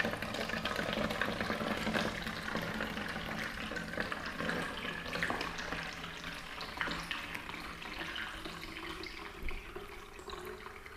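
Quick detail spray liquid trickles steadily into a bottle through a small funnel, a soft continuous pouring and gurgling sound heard close up for about ten seconds.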